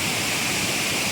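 Bokad waterfall near Vajreshwari pours in a loud, constant rush of falling water, heard up close with a bright hissing spray and no pauses or voices.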